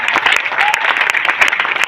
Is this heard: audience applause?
yes